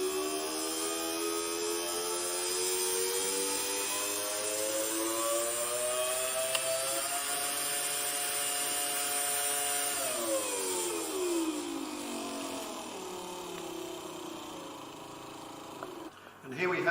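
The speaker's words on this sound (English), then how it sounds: "as I dial it up, you can hear the motor ramping up and accelerating" An electric motor whines steadily, its pitch climbing as it speeds up, then dropping away before a brief clatter at the end; close and fairly loud.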